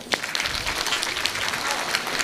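A crowd at a devotional question-and-answer gathering breaks into loud, dense applause, a close and steady roar of clapping with some voices mixed in underneath.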